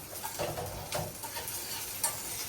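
Soft sizzling of green chillies frying in oil, with faint stirring scrapes and an occasional light tap, no voices.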